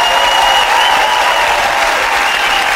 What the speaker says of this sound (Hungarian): innen a budapesti stúdióból egy nagy tapsot küldünk neked